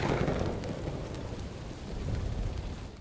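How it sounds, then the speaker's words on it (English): Steady rain in the forest of the video game Bō: Path of the Teal Lotus, a dense, even wash of falling drops with a low rumble underneath, constant throughout. "it starts to rain"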